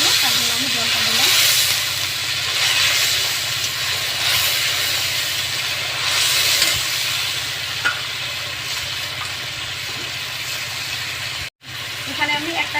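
Spices sizzle steadily in a hot pan after a splash of water, a continuous hissing, steamy fry for a fish curry, with faint stirring scrapes throughout and a brief dropout near the end.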